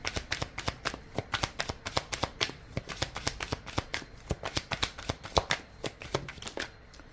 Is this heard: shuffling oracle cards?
yes